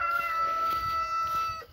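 A Colombian blue rooster and hens in a backyard coop, giving faint, brief clucks and calls against a quiet outdoor background.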